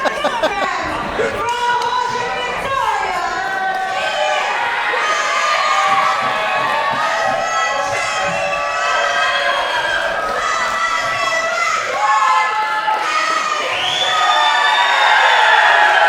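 Wrestling crowd at an MXW street fight in Geelong cheers and chants continuously, a dense roar of many voices swelling near the end.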